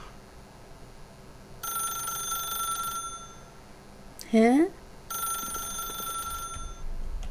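A telephone rings inside The Stanley Parable video game, two long bursts of bright trilling bells separated by a short gap, with a brief voice exclamation in between.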